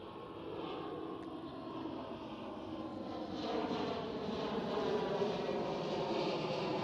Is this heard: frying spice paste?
no